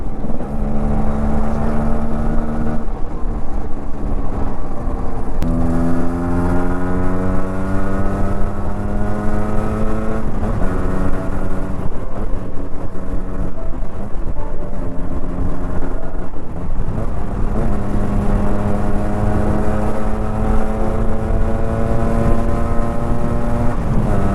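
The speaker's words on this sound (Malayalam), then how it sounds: "എടുത്തിട്ട് എടുത്തിട്ട് കയറുന്നുണ്ട് വണ്ടി" A Yamaha RX-Z motorcycle engine revving hard toward 5000 rpm on the move, loud and close, with several rising pitch sweeps and gear shifts over constant wind noise.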